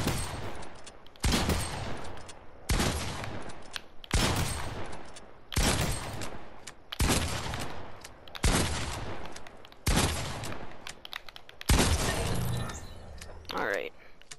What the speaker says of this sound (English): the TAC can two-shot faster than the pump can shoot two